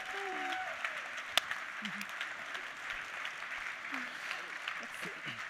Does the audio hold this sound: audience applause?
yes